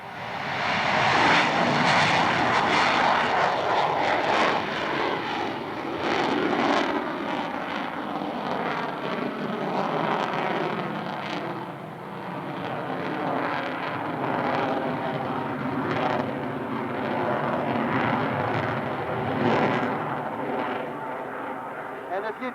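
A military jet's engine spools up to full power during a simulated carrier go-around at an airshow in Erie, 1993, a loud sustained roar with shifting whine that holds steady throughout, a commentator talking over it.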